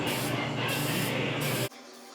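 A light first coat of primer is sprayed from close range in one loud, steady hiss that stops abruptly near the end, leaving faint room noise.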